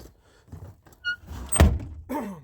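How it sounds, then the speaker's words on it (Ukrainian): A car door shuts on a VAZ-2101 with a worn body and a door that closes poorly, a single thunk in the middle set among quieter rustles and clicks nearby. "Двері погано закриваються."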